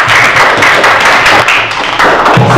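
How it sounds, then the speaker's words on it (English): Classmates in an elementary English lesson give a student a round of applause, a loud, steady patter of many hands clapping close by for a couple of seconds, with no talk over it. "Give applause for Rahma."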